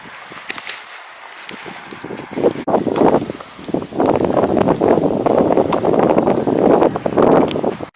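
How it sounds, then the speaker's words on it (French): Gusty wind buffets the microphone outdoors, rising from light rustling to a strong, continuous roar for most of the stretch. "Ah, il y a du vent, il fait froid."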